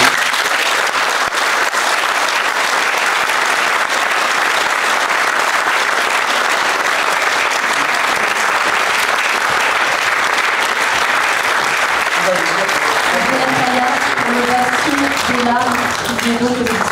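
Sustained, loud applause from the audience at a book fair award ceremony as a laureate is announced, continuous dense clapping for many seconds; near the end, music emerges beneath the clapping.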